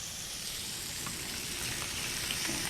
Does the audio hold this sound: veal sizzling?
yes